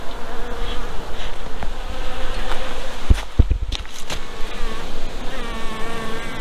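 Honey bees hum in a dense, continuous swarm around the busy yellow hive on a farm, close and loud, with a few sharper buzzes of individual bees flying near.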